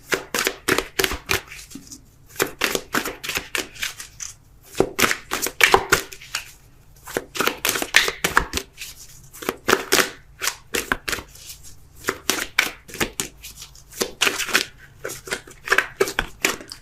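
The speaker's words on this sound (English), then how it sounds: "I already cut and shuffled." Tarot cards being shuffled by hand, a dense run of quick papery riffles and slaps in irregular bursts, close and fairly loud, with brief pauses between rounds.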